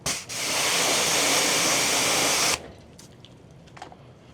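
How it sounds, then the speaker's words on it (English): A pressure washer rinses dirt off a dirty truck, giving a loud, steady spraying hiss for about two seconds that cuts off abruptly, then only faint rustles. "Now pressure wash it off again."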